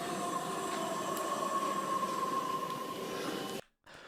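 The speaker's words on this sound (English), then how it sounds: "That's just the sound of the train!" Underground train running through a tunnel, a steady loud rumbling roar with a sustained metallic tone, ending in an abrupt brief dropout near the end.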